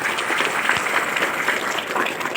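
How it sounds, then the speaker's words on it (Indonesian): Audience applause at an open panel discussion against sexual violence toward women and children, a steady wash of many hands clapping at even loudness throughout with no break. "Berikan tepuk tangan dulu kawan-kawan."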